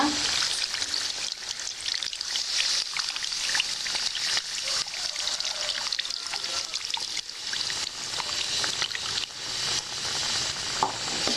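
Tamarind water poured into a frying fish curry (kuzhambu) in a pan, giving a loud, steady sizzle and bubbling with stirring and trickling throughout, no talking.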